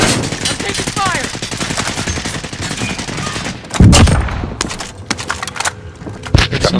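Bursts of rapid automatic gunfire in Call of Duty: Modern Warfare crackle close and loud in dense volleys, with a heavier blast near the middle and sharp single shots afterward.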